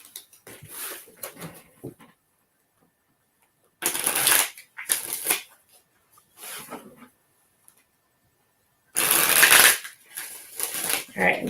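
Tarot or oracle cards shuffled for a reading during a live stream, heard as bursts of papery riffling and flicking in a few separate rounds, close and fairly loud, with short quiet gaps between.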